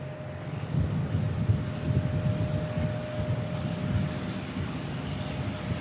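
A C-17A military transport aircraft at Christchurch Airport, a low, steady engine rumble with a faint tonal whine, carried on wind-buffeted open air at a distance.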